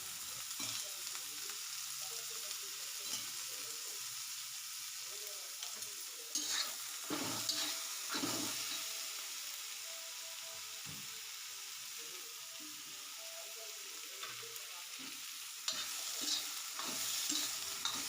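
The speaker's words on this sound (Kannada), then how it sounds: "ಎಣ್ಣೆ ಹಾಕ್ಕೊಂಡು ಹಸಿರು ಮೆಣಸಿನ್ಕಾಯಿ ಹಾಕ್ಕೊಂಡು ಇನ್ನೊಂದ್ಸಲ ಫ್ರೈ ಮಾಡ್ಕೊಳ್ಳೋಣ" Green chillies fry in hot oil in a pan with a continuous, close sizzle and occasional stirring knocks and scrapes, and no talking.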